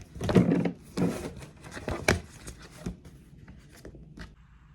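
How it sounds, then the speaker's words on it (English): A sticker being peeled off a sticker book page, close-up papery rustles and tearing swishes in several short bursts, fading to lighter handling sounds toward the end. "Let me peel this off."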